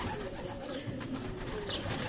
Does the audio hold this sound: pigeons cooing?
yes